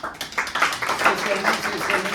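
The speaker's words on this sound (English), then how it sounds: "If you can applaud at the end, that would be great so everybody can hear all the names." An audience at a membership meeting applauds with a soft, steady patter of clapping, and a voice speaks over it.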